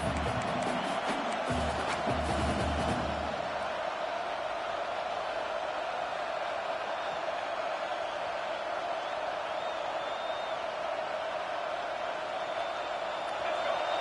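Steady roar of a packed college football stadium crowd at a Notre Dame game, a constant wide wash of cheering noise, louder at first with a few brief bursts, under a commentator's play-by-play voice.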